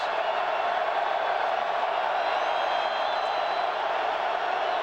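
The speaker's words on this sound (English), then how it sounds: "And now the crowd getting into it for the Nebraska defense." Big football stadium crowd roaring for the Nebraska defense, a sustained hissing wash of cheering from a distance with no breaks, steady and fairly faint.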